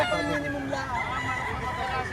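A Boston-line gamefowl rooster for sale at a busy Tuesday poultry market in Padre Garcia, Batangas, gives brief clucks and calls amid crowd chatter and a goose-like honk, fairly close and short.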